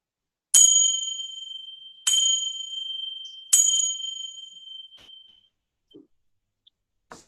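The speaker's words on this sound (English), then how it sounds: "in a short while, you'll hear the bell sound" A meditation bell rings three clear, resonant strikes about one and a half seconds apart, each tone ringing out and fading, alone in a quiet room, followed by a few faint small taps.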